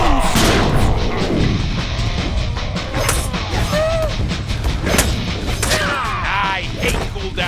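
Gunfire in the Deadpool video game: a busy, loud mix of booming shots and blasts, with chaotic game effects and whooshes layered throughout.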